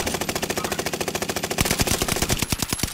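Rapid automatic gunfire from a weapon in a shooting video game, a dense, loud stream of fast cracks that becomes sharper and more spaced toward the end, with no talk over it.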